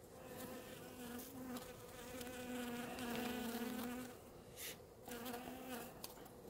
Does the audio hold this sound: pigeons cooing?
no